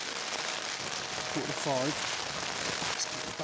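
Steady rain drums on a tent during a wet, windy winter storm on Dartmoor, a continuous close patter with someone speaking briefly over it.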